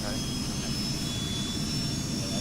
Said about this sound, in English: So the engine's spooling up.